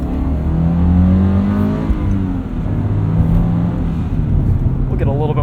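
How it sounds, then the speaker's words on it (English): A 2022 Subaru BRZ with an MRT Sport Touring axle-back exhaust cruises along, its smooth, sporty exhaust drone humming steadily from inside the car while someone talks over it. "This is kind of the perfect axle back sound for me personally."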